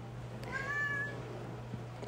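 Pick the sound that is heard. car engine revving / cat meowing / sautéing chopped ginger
cat meowing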